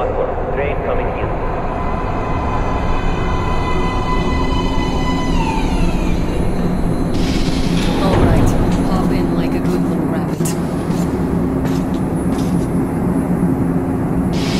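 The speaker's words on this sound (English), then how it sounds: "Please step away from the edge of the platform. Train coming in." In the video game Metro: Last Light, a train pulls into a station platform with a loud, steady rumble. Squealing brakes and clanks build in the second half, and voices may sound faintly underneath.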